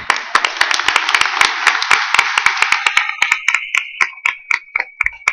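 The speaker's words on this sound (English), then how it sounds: "Big round of applause for Tab de Chateau" Audience applause for a speaker at a poker tournament directors' summit: a burst of many hands clapping that thins out into a few scattered, sharp individual claps trailing off.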